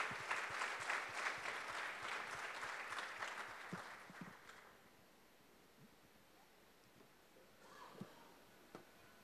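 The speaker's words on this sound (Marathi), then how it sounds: "टाळ्या वाजवूया." A church congregation at a Sunday service claps together in loud, dense applause that fills the room for about four seconds, then fades to quiet room tone with a few faint scattered sounds.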